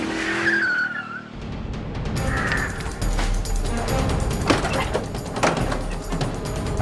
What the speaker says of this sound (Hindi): बस रोको गाड़ी।